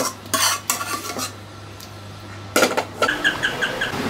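A small wok of leftover cooked meat being reheated, with sharp metal utensil scrapes and clinks in short bursts, a quiet gap with a low hum, then a run of rhythmic clanks, close and fairly loud.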